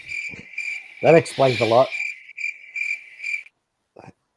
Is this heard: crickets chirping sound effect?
yes